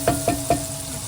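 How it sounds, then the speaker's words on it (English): Onion sautéing in a pan for penne pasta, a steady soft sizzle with three quick clattering stirs near the start, then settling into a quieter even fry. "So now I'm going in with my onion first. I'm gonna let that saute and caramelize."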